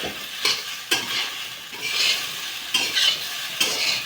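Sabudana khichdi is stirred and pressed with a spatula in a pan. Soft, steady frying crackles sit under several sharp scraping strokes spaced about half a second to a second apart.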